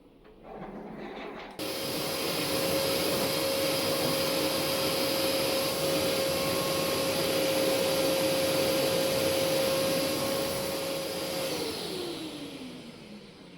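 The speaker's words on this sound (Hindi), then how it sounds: "बालकनी को मैं अच्छे से एक बार ना वैक्यूम कर लूँगी।" A vacuum cleaner switches on and runs steadily while cleaning a home balcony, a loud close whooshing roar with a constant whine, easing down at the end.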